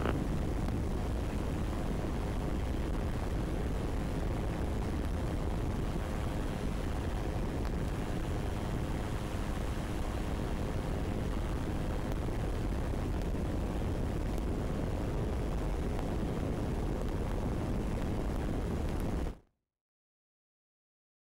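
A microlight aircraft on its takeoff run from a runway in calm wind, with a loud, continuous broadband engine roar and wind rush that stays steady, then cuts off abruptly near the end.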